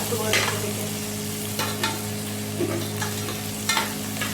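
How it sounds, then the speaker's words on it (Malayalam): Okra fries in a pan with a continuous close sizzle, broken by a few sharp stirring scrapes and clinks at irregular moments. "വെണ്ടയ്ക്ക ഒന്ന് വറുത്തെടുക്കണം"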